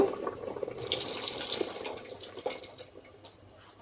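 Tamarind juice poured into drumstick dal, a close liquid splashing and trickling that fades over a few seconds.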